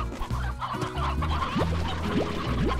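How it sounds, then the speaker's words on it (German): Chickens on a ranch in the video game Slime Rancher cluck steadily and close up over a low, continuous game background, with a few short rising chirps in between. "Wenn sich die Hühner wenigstens hier von dem Baum fernhalten würden."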